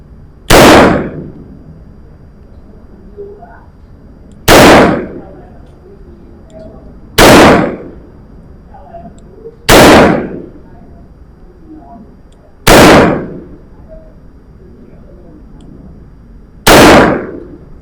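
A JM625 revolver firing .45 Bulletmaster 200gr lead SWC bullets at about 10 meters: six loud, sharp single shots spaced a few seconds apart, each with a short decay, quiet in between.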